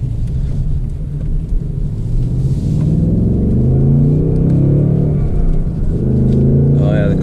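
A 2024 Ford Mustang GT with a six-speed manual pulls through its gears, its engine rumbling loud and steady with rising and falling revs, while someone talks over it from inside the cabin.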